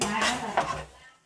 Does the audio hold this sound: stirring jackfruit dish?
yes